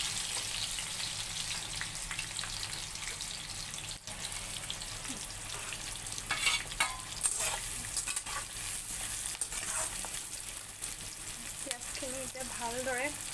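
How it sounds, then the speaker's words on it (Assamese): Onions hit hot mustard oil and sizzle steadily in a pan, with stirring scrapes and a faint voice now and then over the steady frying hiss. "এই তেলত পিঁয়াজখিনি দি দিম লাহে কৰি"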